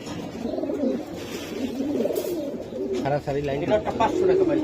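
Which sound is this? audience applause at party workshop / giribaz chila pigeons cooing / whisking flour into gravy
giribaz chila pigeons cooing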